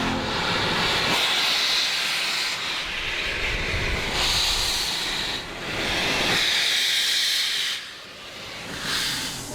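Steam locomotive on the Watercress Line heritage railway hissing loudly, long sustained bursts of steam venting close by, swelling and easing in waves with rumbling underneath.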